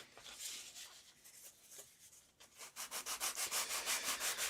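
Sandpaper rubs against a cardboard laptop mount in short, quiet scratchy strokes. The strokes then speed up into a fast, even back-and-forth rhythm of about a dozen passes, heard close with no one speaking.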